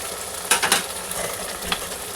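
Onion, capsicum and green chillies frying in a pan: a steady close sizzle with a few sharp scraping stir strokes near the start and one more later.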